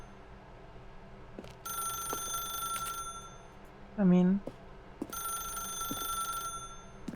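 Two bursts of an old-style telephone ringing in The Stanley Parable video game, each lasting about a second and a half, with someone talking softly between and around the rings.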